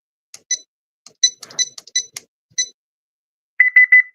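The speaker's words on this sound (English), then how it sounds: "the alarm is set" An alarm clock being set gives a series of sharp electronic beeps, single chirps spaced irregularly, then a quick run of four rapid beeps at the end, close and clear against silence.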